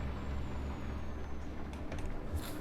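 Air brake hiss from a Scania T truck in Euro Truck Simulator 2 after a hard stop, heard over a low idling diesel rumble with short bursts of hissing air near the end.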